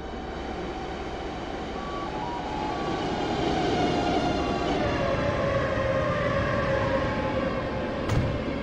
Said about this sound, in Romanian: Trenul merge în direcție greșită.